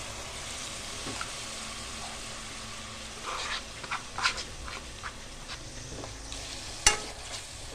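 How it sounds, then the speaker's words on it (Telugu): Mint juice frying in oil in a covered pan for pudina rice, giving a quiet, steady sizzle with scattered clicks and a few sharper scrapes of stirring, and no talk. "ఇది పచ్చివాసన పోయే వరకు ఆయిల్లో ఫ్రై చేసుకోవాలి"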